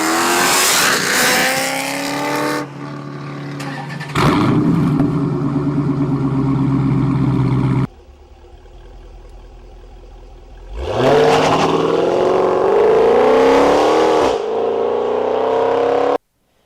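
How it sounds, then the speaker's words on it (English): Dodge Challenger with a custom exhaust of Flowmaster mufflers, deleted resonators and large tips, roaring loudly through several revs and accelerations, with deep bursts, brief lulls and one sweeping pull near the end, no voices. "Adding some Flowmaster mufflers, deleting your resonators, and adding some big exhaust tips not only looks cooler, but adds the muscle car sound"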